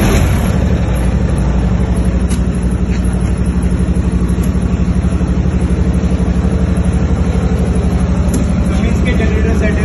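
A Cummins soundproof generator set runs with a loud, steady engine drone and a constant mechanical hum that holds unchanged throughout.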